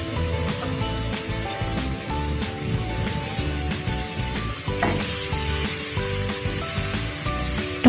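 Chopped onion sizzles in about four tablespoons of hot oil in a pan, a loud, steady, close hiss with light stirring scrapes over a low tonal hum in the background, and no voices.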